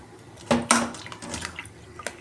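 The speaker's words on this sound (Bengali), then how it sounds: "আমি জলটা ঝরিয়ে একদম হাত দিয়ে নিগড়ে নিগড়ে রেখে দেবো।" Water draining and being squeezed by hand from salt-soaked bitter gourd, a few close wet splashes and drips followed by quieter trickling, no talk.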